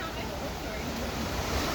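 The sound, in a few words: rushing water of a waterfall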